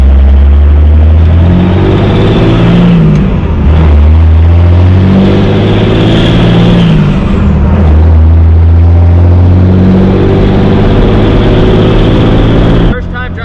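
Third-generation truck fitted with a swapped 12-valve diesel engine, running close and very loud with a deep, rumbling idle that swells into heavy revving, steady throughout with brief talk over it.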